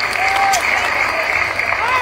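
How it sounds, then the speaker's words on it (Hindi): Applause from an audience at a padyatra gathering with a Bollywood actress present, steady dense clapping throughout with a busy crowd wash and voices mixed in over it. "जोरदार ताली बजा करके आपको भी साधुवाद दो"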